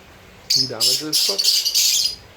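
Lovebirds let out a short burst of shrill chirps and harsh squawks, loud and close, lasting about two seconds against a quiet background.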